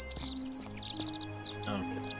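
Bright, high bird chirps and tweets in quick, scattered bursts over a steady low hum in The Forgotten City, fairly close and clear with no talking.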